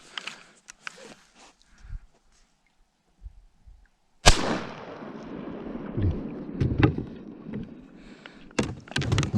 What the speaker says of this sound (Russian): Ладно, стреляю.